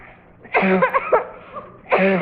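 Close, harsh whooping cough in a few bursts, a short fit followed by a pause and then another strong cough, with no talking, from a 1951 radio drama.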